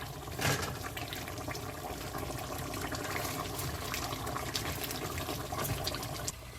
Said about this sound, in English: I put some more water in, because it still need to cook